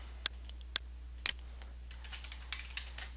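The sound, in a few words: computer keyboard typing a memo name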